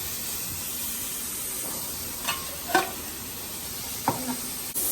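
Vegetables with capsicum stir-frying for veg fried rice, a steady close sizzle and hiss with a few light clacks of the spatula against the pan, no voices.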